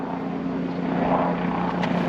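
A private helicopter passes overhead, a steady broadband engine and rotor rumble with strong wind noise mixed in, no voices.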